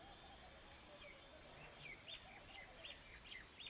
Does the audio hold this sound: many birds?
yes